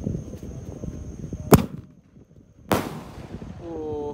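A Gatot Kaca firecracker bursts with two sharp, loud bangs about a second apart during a Ramadan night of fireworks, with voices and background noise around them.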